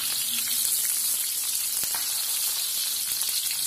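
Shallots, lemongrass and curry leaves frying in hot oil for an Acehnese fish curry, giving a steady, dense sizzle that holds at an even level throughout with no voices.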